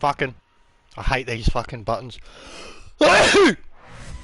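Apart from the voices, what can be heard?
sneeze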